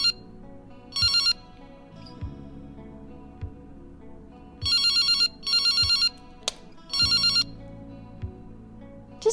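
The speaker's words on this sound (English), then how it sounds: "It's my cell phone." A cell phone rings in short repeated bursts of a bright electronic ringtone, four pulses spread across the stretch over a low steady background hum.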